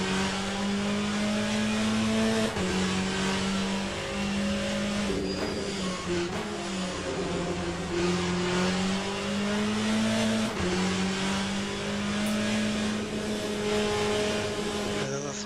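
A race car engine drones steadily in a sim racing video game, its pitch rising and falling through gear changes with faint tire squeal throughout, continuous and close.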